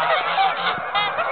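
A flock of geese honks steadily while landing on water, a dense, close chorus of overlapping nasal calls.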